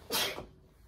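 A single close, sharp sneeze bursts out at once and fades quickly into quiet room tone.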